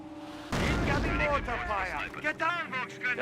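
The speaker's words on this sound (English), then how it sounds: "Looks like the mortar's maybe hitting this garrison." Mortar shells slam into an enemy garrison in the WWII strategy game Company of Heroes 1. A heavy, booming impact erupts suddenly, then a rumbling, crackling tail follows, with a voice talking over it.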